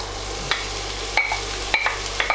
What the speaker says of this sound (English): Let's chuck the onion in.